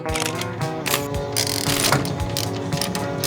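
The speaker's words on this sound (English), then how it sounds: "you're going to want to loosen all 4 of these bolts" A T40 Torx ratchet loosens seat bracket bolts on a 2019 Dodge Ram ProMaster, giving rapid, close metallic clicking in repeated bursts of turning strokes.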